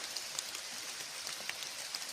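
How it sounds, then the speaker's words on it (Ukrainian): Light rain falling steadily outdoors, a soft continuous hiss of drops pattering on surfaces with scattered brighter taps, quiet and close, with no voices. "Дощ потихеньку паде"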